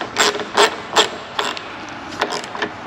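Bolts on a snorkel fitted to a third-generation Toyota 4Runner being tightened with a ratchet, giving about seven short, close bursts of clicking with brief pauses between.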